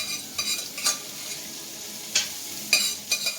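Partially cooked potatoes fry in a pan with a steady, soft sizzle, broken by several sharp scraping stirs of a utensil against the pan.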